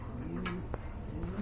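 A satinette pigeon gives soft, close cooing: a few low, rounded coos in a quiet space with no talk.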